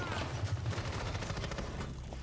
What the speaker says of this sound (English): You hear more gunfire getting exchanged.